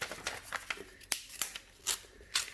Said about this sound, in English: Now if I am to take this one now and cut it in half